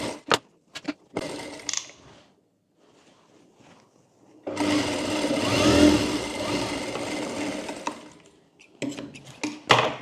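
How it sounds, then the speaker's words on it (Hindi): A sewing machine stitches a baby girl's party frock, whirring in short bursts at first, then running one long steady stitching run, then short bursts again near the end, loud and close. "अब अंदर की तरफ से पहले एक एक सिलाई कर लेते हैं।"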